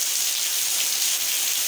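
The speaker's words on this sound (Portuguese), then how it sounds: "Tamandaré, Pernambuco, está assim hoje, muita chuva" A heavy downpour in Tamandaré, Pernambuco with flooded streets: constant bright hissing rainfall, close and even throughout, nothing else audible.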